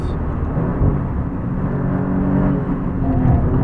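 A McLaren Formula 1 car at speed on a hot lap around the Las Vegas street circuit, heard from onboard as a steady, loud low engine rumble and whir without a break.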